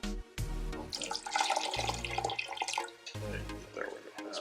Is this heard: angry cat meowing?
no